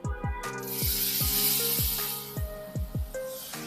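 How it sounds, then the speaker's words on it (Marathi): Water sprinkled over besan zunka cooking in a pan gives a broad, steady hiss that lasts throughout, with background music of plucked, ringing notes playing over it. "आणखीन मी थोडंसं पाणी यावरती शिंपडून घेते"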